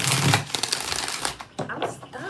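Tarot cards being shuffled at a reading, several quick riffling and flicking bursts close up, with voices talking over and between them.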